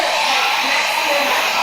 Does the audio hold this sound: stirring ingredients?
no